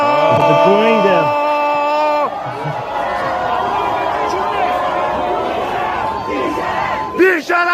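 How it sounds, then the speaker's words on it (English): A crowd of university students in Iran boo and chant loudly together, a dense mass of raised voices with rhythmic shouted calls, close and filling the space. "They're booing them."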